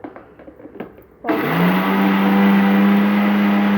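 A few soft clicks and knocks, then a mixer grinder roars to life and runs at a loud, steady high-pitched whir, grinding sesame seeds and spices for curry leaf powder continuously.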